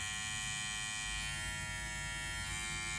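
An electric hair clipper runs with a steady, close buzzing hum that holds unchanged for the whole moment, with no voices.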